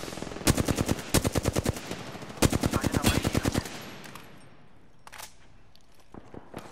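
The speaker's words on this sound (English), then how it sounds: "I'm getting shot by the other fucking team." Rapid bursts of automatic gunfire in a team-based online shooter game, two long loud volleys followed by fainter scattered shots, with no talk over them.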